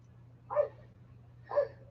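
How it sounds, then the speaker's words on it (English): A dog barks twice indoors, two short evenly spaced yaps at moderate distance over a low steady hum. "Oh, Zuko, what are you barking at?"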